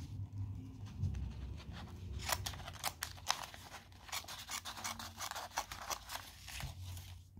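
Scissors on a Workpro 15-in-1 multitool snip through light material, a run of crisp close cuts in quick irregular succession after some quieter handling and rustling.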